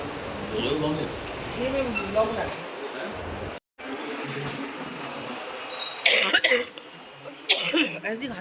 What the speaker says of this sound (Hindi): ऐसी खांसी उठ रही है रुक रुक के।